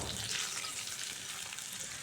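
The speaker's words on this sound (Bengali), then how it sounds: "দেখুন বন্ধুরা, আমি উল্টি পাল্টিয়ে বেগুন ভাজাগুলো করে নিয়েছি।" Eggplant slices fry in a pan over low heat, a soft, continuous sizzle with faint crackles, quiet and steady with no voices.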